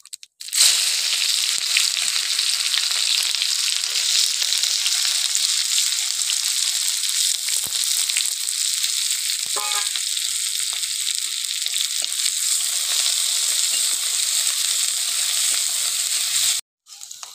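Chopped onion frying in hot oil with bay leaf and whole cumin, a loud steady close sizzle that runs almost unbroken for the whole stretch, with a brief stirring sound partway through.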